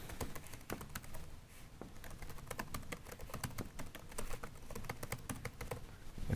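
Fast, steady typing on a computer keyboard while working in Visual Studio, a close run of quick clicky keystrokes with an irregular rhythm and no talking.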